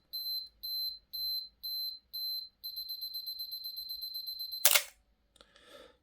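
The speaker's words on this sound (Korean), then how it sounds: "이 S로 놓고 와인딩 후 셔터를 누르면 이렇게 소리가 나게 되는데" A Canon AE-1 Program film camera's self-timer beeps in short bursts that speed into a rapid continuous beep, then a mechanical shutter click followed by faint winding clatter.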